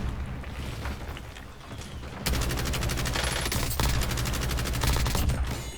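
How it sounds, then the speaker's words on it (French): Automatic gunfire in a first-person shooter game, a sustained rattling burst of rapid shots that kicks in abruptly and continues with brief breaks, loud and close. "C'est pris une petite rafale lui."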